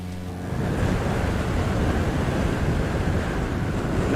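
Strong wind roaring past a small RV-14 aircraft in Microsoft Flight Simulator, a dense steady rush that rises quickly and stays loud and continuous with no voices.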